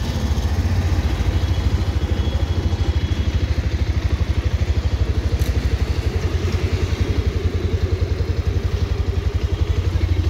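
A 2023 Bajaj Pulsar 220F BS6 motorcycle engine pulls steadily under throttle while riding, a loud, even, rapid pulsing thrum with wind rush, holding a constant drone for the whole stretch.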